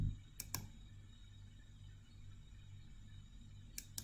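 Computer mouse clicks while working in SPSS statistics software: a quick double click near the start and another pair near the end, crisp and close against a faint steady hum.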